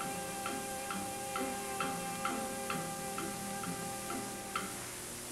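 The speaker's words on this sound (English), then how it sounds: "it's possible to hear the ticking of a watch." A wristwatch ticking steadily inside the quiet cabin of a 1955 Convair CV-440 Metropolitan airliner, about one tick every half second, faint and regular over constant engine and cabin hum.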